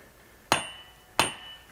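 Two sharp hammer blows strike a steel wood splitter driven into a log with a hard center, each a loud metallic clang with a ringing decay, spaced about 0.7 seconds apart.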